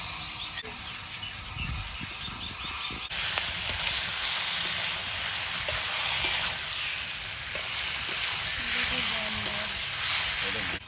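Chicken meat hits hot oil in a pan with mustard-earthy potatoes nearby, bursting into a loud, steady sizzle that starts abruptly and holds a dense, crackling hiss throughout.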